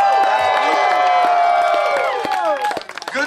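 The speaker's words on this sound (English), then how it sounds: "give a round of applause for Mark and Cheryl" Crowd at a live Grillfest show cheering and applauding under strong sustained tonal sound, the clapping dense and steady before thinning out toward the end.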